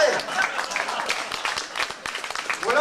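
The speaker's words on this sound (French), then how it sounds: "M. Gallet, on l'applaudit." Crowd applause at an agricultural fair, a loose spread of hand claps held steady across the whole stretch, with some chatter mixed in.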